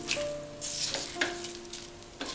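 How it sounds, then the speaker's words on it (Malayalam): Browned onions stirred into dry shrimp in a pan for a Kerala-style coconut and tamarind dish, giving a soft sizzle with a few scraping stirs spread across a short moment. "ഇനി ഇത് നമുക്ക് ചെമ്മീനിലേക്ക് ചേർക്കാം. ഒന്ന് ഇളക്കി കൊടുക്കാം."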